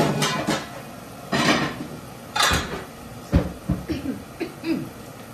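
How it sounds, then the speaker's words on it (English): A lid is set onto a cooking pot, with a series of metallic clanks and knocks of varying loudness close by, scattered irregularly over a few seconds. "I'm going to cover that and let that take its time and do some cooking."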